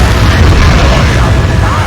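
A grenade explodes in the video game Resident Evil 4, a loud, dense, continuous rumbling boom that fills the whole moment with heavy low-end roar and no distinct pauses.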